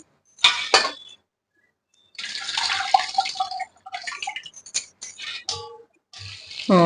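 Wheat grains being rinsed in water in a vessel, with bursts of splashing, swishing and trickling, gritty clinks of grain, short pauses between rinses, close and fairly loud.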